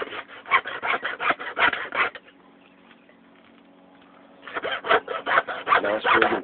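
A hacksaw cuts through hog ribs during hog processing, with loud, fast rasping strokes for about two seconds, a quiet pause, then another burst of rhythmic sawing.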